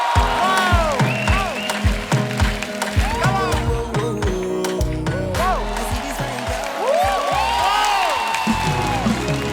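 A studio audience on a Kapil Sharma Show set applauds and cheers to welcome a Nigerian Afrobeat singer. The clapping is loud and steady, mixed with whoops and lively music throughout.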